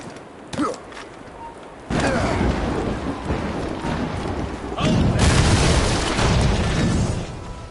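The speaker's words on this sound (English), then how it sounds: "Chevalier is using mortars to stop Shay." Mortar fire in Assassin's Creed Rogue Remastered on PS4, with heavy, loud rumbling explosions that swell and sustain, set against creaking battle noise.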